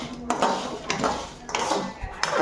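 Peanuts roasting in a pan, with repeated scraping and clattering of a metal spoon stirring them, in several sharp bursts roughly every half second, close and fairly loud, with faint talk around it.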